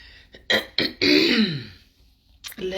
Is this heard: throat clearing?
yes